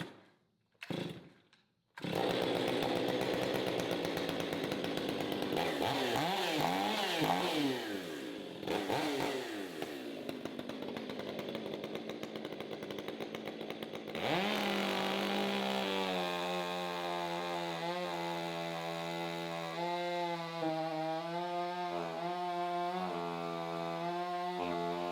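A chainsaw cuts through a big, partly hollow log clamped on a manual lumber mill, running loud and steady at close range for over twenty seconds, the engine pitch shifting as it bogs and revs through the wood.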